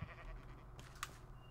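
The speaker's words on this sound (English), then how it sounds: "Sheepy's pink?" A sheep bleats once in the Minecraft modpack Crazy Craft, a brief, fairly faint call rising over quiet background game sounds.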